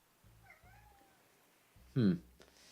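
A pet cat begs for food with a few drawn-out, wavering meows at moderate distance, followed by a louder sharp meow, with soft indoor thumps and faint voices around it.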